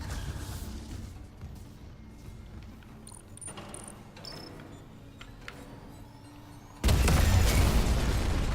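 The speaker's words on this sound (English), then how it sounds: "Take cover to detonate." Detonation in the Dead Space remake: low game ambience with scattered metallic clicks and pings builds quietly, then a sudden loud broadband blast erupts and keeps roaring through the final seconds.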